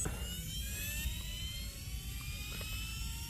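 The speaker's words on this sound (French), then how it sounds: "et là si vous entendez, le gyro se met en route" A Losi RC motorbike's gyro spins up, a high, rising whine with several steady tones climbing over a low engine rumble, like a small motor spinning up to speed.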